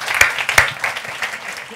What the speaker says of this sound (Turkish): Alkışlayalım Ragıp'ı.